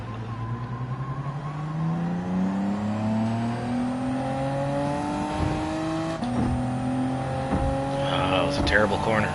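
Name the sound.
race car engine accelerating in video game Gran Turismo 7, GTO twin turbo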